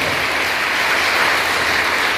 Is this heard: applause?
yes